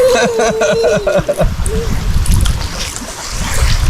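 Mia swims in a secluded cove on the coast between Karasu and Kefken, stirring up close, steady splashing and sloshing water. A voice briefly sounds at the start.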